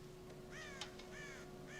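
Crows caw on a ranch in the western game Red Dead Redemption, several harsh caws in a loose sequence over a steady low ambient hum, with one brief sharp tap midway.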